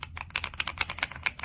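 Typing on a Kisnt KN85 wireless 75% mechanical gaming keyboard, a quick steady run of subdued, fairly close keystroke clicks heard alone.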